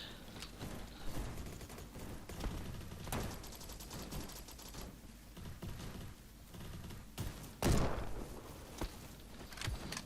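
Rapid gunfire in the Roblox shooter Bad Business, dense bursts of shots and clatter running throughout, with a louder crack near the end.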